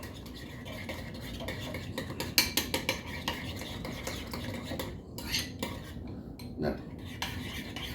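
Relish being stirred into a ketchup-based burger sauce, a spoon clinking and scraping against a bowl in quick rhythmic taps, close and fairly quiet, with a single brief spoken word.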